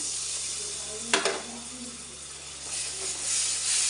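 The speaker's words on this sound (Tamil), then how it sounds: "இந்த தக்காளி ரெண்டு தக்காளியை நான் அடித்து வச்சுருக்கேன் மிக்சியில் அதையும் சேர்த்திக்கிறேன்" Blended tomato is poured into a hot pan while cooking an okra tamarind thokku, giving a sudden sharp sizzle and splash, then a softer steady frying hiss that swells again toward the end, close and without talk.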